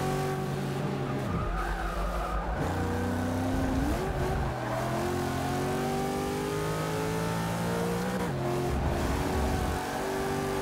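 A Nissan GTR in Forza 6 accelerates hard, its engine pitch climbing and dropping repeatedly as it shifts up through the gears, loud and continuous with some tyre noise.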